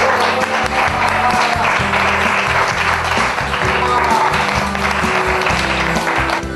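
A school assembly applauds three students from a rock band club who won an award at a national club contest, with steady, dense clapping throughout, mixed with loud music and some voices.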